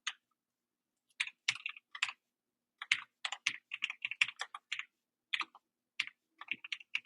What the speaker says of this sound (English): Typing is so much harder when people are watching.